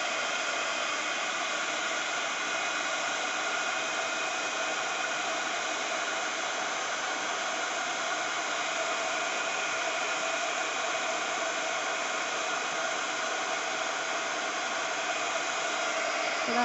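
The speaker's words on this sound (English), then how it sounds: "with my heat gun." A heat gun blows on a handmade stamped card in a steady, loud, unbroken whoosh that runs throughout with no pauses or talking.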